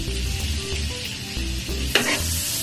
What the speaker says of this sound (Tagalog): Pagtunaw na ang butter